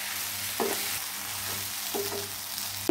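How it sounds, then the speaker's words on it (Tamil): A spoon stirs a couscous mixture in a pan over a steady hiss, with a few distinct scrapes and taps against the pan standing out, close by and without speech. "இப்போ இதை நல்லா மிக்ஸ் பண்ணி விட்டுடலாம்."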